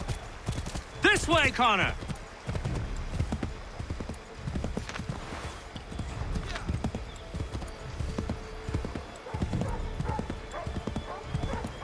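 Horse hooves clip-clop steadily in the game Assassin's Creed III, with a whinny near the start, a constant rhythmic trot under spoken dialogue.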